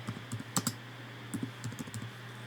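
Computer keyboard typing while editing text in an online design tool: quiet, irregular clusters of soft key clicks over a steady low hum.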